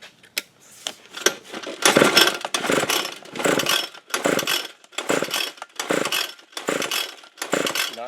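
A Craftsman Pro weedeater with a fuel problem is pulled repeatedly without catching, about nine rhythmic bursts of pull-cord rattle and sputtering engine cranking, close and loud, with brief pauses between pulls.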